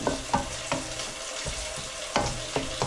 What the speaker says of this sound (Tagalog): stir natin mga kabule